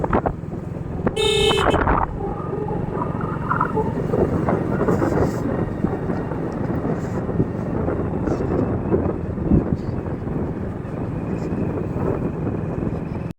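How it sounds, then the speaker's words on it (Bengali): One short, loud car horn honk sounds early on, followed by steady road rumble and wind noise from a moving vehicle. "হর্ন দাও"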